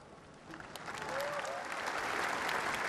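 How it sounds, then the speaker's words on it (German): Audience in Berlin applauding a speech by Obama, clapping that starts moderate and swells within the first second into a dense, sustained ovation from a large crowd. "Das Publikum ist begeistert und das politische Berlin klatscht Beifall."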